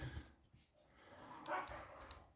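Several dogs barking and yipping indoors, quiet and somewhat distant, a short burst of barks at the start and more toward the end.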